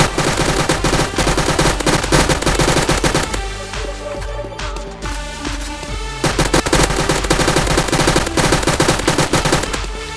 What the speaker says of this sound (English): First up, we got an AK-12.